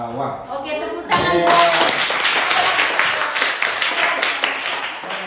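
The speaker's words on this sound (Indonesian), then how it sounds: "Oke, tepuk tangan." Applause from teachers and students at an elementary school appreciation event in Sirombu, a dense burst of hand clapping starting abruptly after a brief moment of talk and continuing steadily, close and fairly loud.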